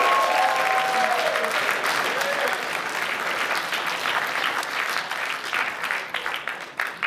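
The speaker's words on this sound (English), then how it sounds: "Everyone give Mike a round of applause." An audience at an Anime Boston 2012 convention panel on Japanese fairy tales claps in a sustained round of applause that holds steady, then thins and trails off toward the end.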